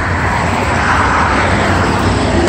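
An airplane near an airport gives off a loud, steady engine roar that holds evenly with no talk, while road traffic blends in underneath.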